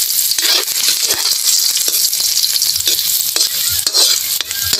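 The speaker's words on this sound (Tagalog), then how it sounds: "Magigisa na tayo." Garlic sautés in a hot pan for Filipino dinuguan with milk, a close, bright sizzle broken by repeated scraping stir strokes of a spatula across the pan.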